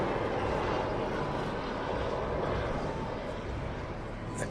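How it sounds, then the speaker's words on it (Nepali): Nepal Airlines Airbus A330-242 landing at Tribhuvan International Airport on a wet runway, arriving from Narita: a steady, broad roar of jet engines and rushing air that holds loud for the whole stretch, easing only slightly toward the end. "Nepal Airlines arrival from Narita."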